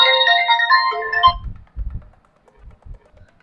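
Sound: mobile phone ringtone

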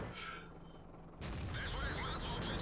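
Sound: tank gun shot in the video game World of Tanks

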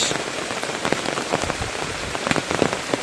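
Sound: rain falling in the morning

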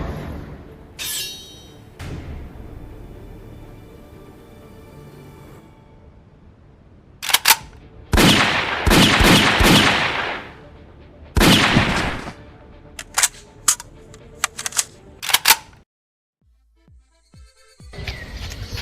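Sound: gunshots in a stage skit

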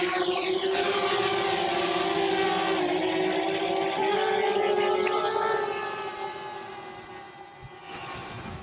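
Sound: drone flying

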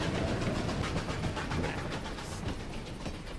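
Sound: train passing in Desperados III video game

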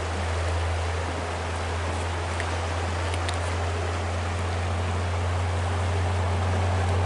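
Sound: river flowing

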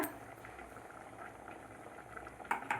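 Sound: chana dal and wheat rava payasam boiling

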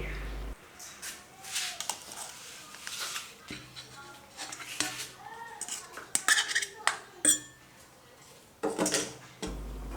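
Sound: scooping a fried omelette onto a plate, utensils clinking

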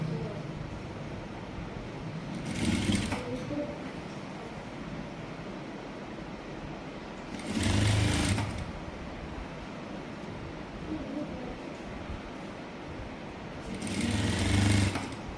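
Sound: sewing machine sewing clothes

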